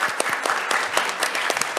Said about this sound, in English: I should have said hold the applause to the end